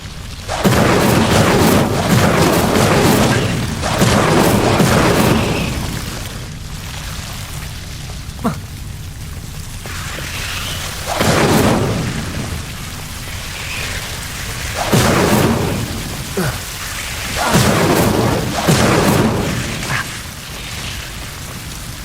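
Incendio fire spell bursts in Hogwarts Legacy, several loud whooshing, rumbling blasts repeating every few seconds with quieter gaps between them and a faint voice in places.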